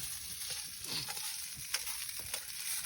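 Nasi goreng fries in a pan on a mountain camping trip, a steady close sizzle with a few soft scraping stirs and clicks, and no voices.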